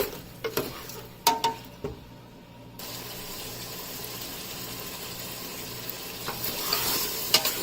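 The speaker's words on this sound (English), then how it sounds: "it's been sizzling for about 2 minutes now" Octopus, shrimp and crab sizzle and crackle steadily in a hot pan, with a few sharp stirring clinks early on before the frying hiss settles into a constant roar.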